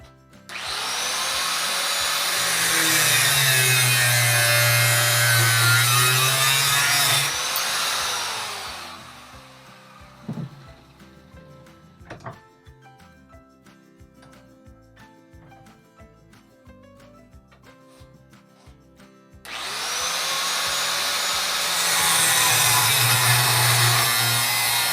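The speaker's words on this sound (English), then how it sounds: "I'm going to cut these parts off here" Steady loud power saw cutting metal round bar parts in a workshop, two sustained cuts of several seconds separated by a quieter pause with light clinks and handling noises.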